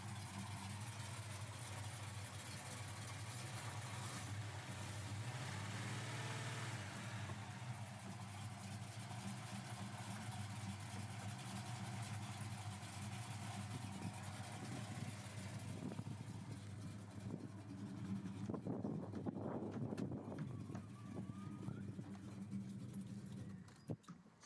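A car engine idles steadily with a low, deep rumble, continuous and unchanging, with some faint movement noises toward the end.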